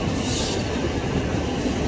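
KRL Commuter Line train rumbling steadily at Manggarai station during rush hour, a continuous close rail roar with a faint squeal early on.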